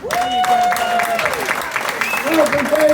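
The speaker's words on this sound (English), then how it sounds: "A big round of applause for Bradford Davis." An audience at a comedy festival show claps for a comedian, a steady patter of applause heard under the host's continuous talking.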